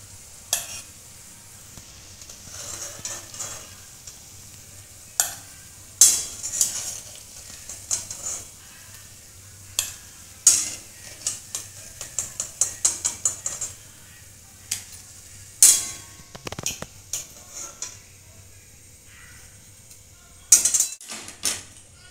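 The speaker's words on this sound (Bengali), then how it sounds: "বাকি যেগুলো আছে সেগুলোও ভেজে নিচ্ছি" The remaining chira cutlets fry in oil in a kadai: a low, continuous sizzle broken by frequent sharp metal clinks and scrapes of a spatula against the pan.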